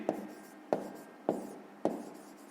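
A pen writes a number on paper, four quick scratchy strokes at an even pace, close and quiet.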